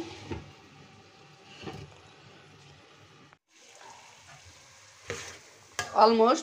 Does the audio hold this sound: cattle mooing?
no